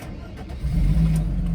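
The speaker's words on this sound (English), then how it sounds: "engine rumbles into life" A 1994 Mercedes-Benz G320 engine catches on the key and settles into a steady, low, quiet rumble, loud and close after a brief moment of cranking.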